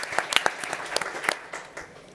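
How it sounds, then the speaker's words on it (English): Applause from a conference audience, a fairly quiet, thin patter of separate claps with a few sharper nearby ones, tapering off toward the end. "Big applause."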